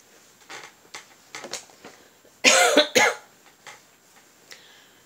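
A few loud, harsh coughs burst out in the middle, with fainter throat noises and small handling sounds before and after, in a quiet room during a cross-stitch session.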